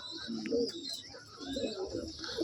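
Soft, low pigeon coos repeat in short bursts against faint background chatter of other birds.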